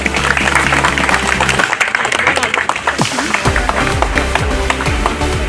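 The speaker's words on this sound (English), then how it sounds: "So can we please welcome her with a huge round of applause?" Audience at a school tree plantation event applauding to welcome the guest of honor, a school principal: steady loud clapping from a crowd, with music and a brief lull partway through.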